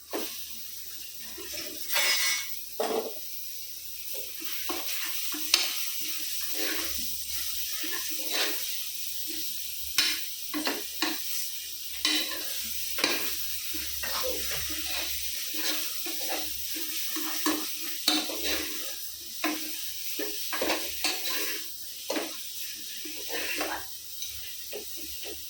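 Washed mutton fries in a pan for a mutton curry and is stirred repeatedly, giving a continuous hiss broken by frequent scraping strokes at an irregular rhythm.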